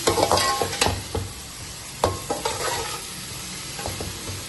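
Small pieces of boneless chicken sizzle in a hot pan, a steady frying hiss broken by the scrape and clatter of stirring.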